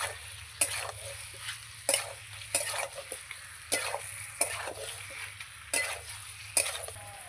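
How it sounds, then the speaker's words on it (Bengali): Meat and vegetables stir-fried together in a pan: a quiet hiss of frying under regular metallic scrapes and clinks of a spoon against the pan, roughly once a second. "এবার সব একসঙ্গে মাংস আর সবজি আমি ভালো করে মিশিয়ে কষাতে থাকবো"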